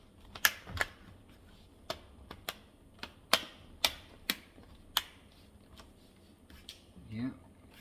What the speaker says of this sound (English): just putting the cover back on, make sure you clip it all in